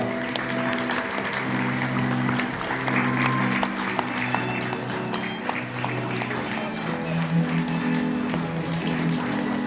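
Wedding guests clap in a dense, continuous round of applause that fills the hall, layered over steady background music, with a voice over the sound system.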